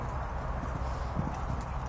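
Horse hooves clip-clopping on an arena surface during a show jumping round at a riding club training session, a steady run of soft beats under broad background noise.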